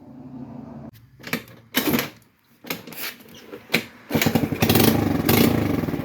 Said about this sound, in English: I think it's backfired.